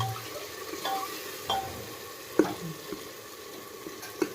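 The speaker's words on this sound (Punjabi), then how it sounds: "ਇਹ ਆਪਣਾ ਤੜਕਾ ਤਿਆਰ ਹੋ ਰਿਹਾ" Oil for a tadka tempering sizzles quietly in a pan, with a few sharp clinks of stirring scattered throughout.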